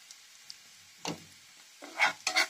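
Maggi noodles with garam masala stirred in a pan, a few short scraping and sizzling strokes, soft and close, with gaps of quiet between them.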